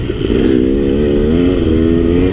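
A dirt bike with no oil in its transmission rides down a mountain from 11,000 feet, its engine a close, loud, steady drone with a slowly rising pitch.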